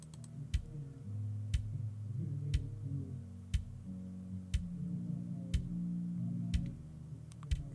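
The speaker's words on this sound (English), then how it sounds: "Hear that kick?" A filtered kick drum plays through a sidechain detector preview, heard as a steady series of short, soft, evenly spaced thumps at a moderate tempo over a faint sustained backing, with no talking.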